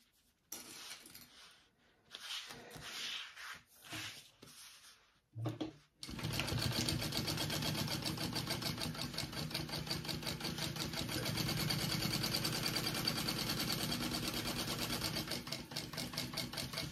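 A sewing machine bastes fabric onto a back panel, starting with a few short stitching bursts and then running steadily at a fast, even rhythm for over ten seconds, close and loud.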